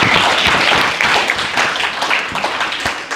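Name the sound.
audience applause for speech competition participants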